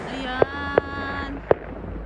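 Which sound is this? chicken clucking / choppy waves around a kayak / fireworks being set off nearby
fireworks being set off nearby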